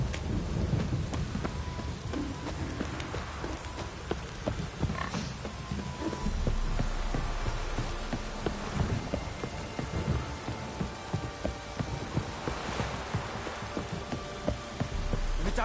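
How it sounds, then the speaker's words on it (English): Rain and rolling thunder in the video game The Witcher 3: Wild Hunt, a steady dense patter of rain under long low thunder rumbles that swell and fade, with no speech. "If it don't stop raining, my arse will rot off."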